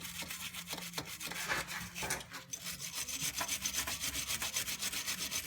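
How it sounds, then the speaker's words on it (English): Wire brush scrubbing rust off a seized brake bolt on a 2000 Chevy Cavalier, a steady rasping scrape of close, repeated strokes running the whole time with no talk. "You want to really brush it, get the rust out of there."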